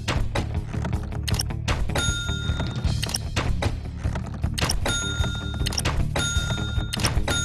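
In a Sly Cooper shooting-gallery minigame, repeated shots land on targets as a series of dull thunks, some followed by bright chiming dings, over a busy game background.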